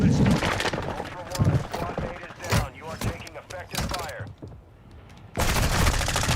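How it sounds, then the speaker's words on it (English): Rapid gunfire from the Call of Duty DMZ video game, loud bursts of shots crackling repeatedly, dropping briefly before a dense volley resumes near the end. "Somebody shooting me."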